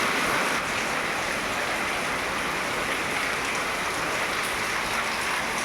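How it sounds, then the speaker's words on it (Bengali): Heavy rain falls steadily and densely, with an even, close roar of drops and no voices. "বৃষ্টি আবার জোরে হচ্ছে তাই মনে হচ্ছে।"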